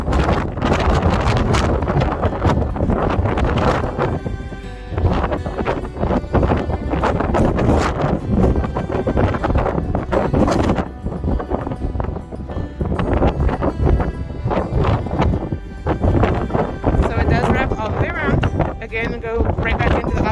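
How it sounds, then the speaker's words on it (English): Strong wind sweeps across an open deck of the Norwegian Sun cruise ship, loud gusty buffeting on the microphone that rises and falls throughout while a person talks over it. "Super, super, super windy."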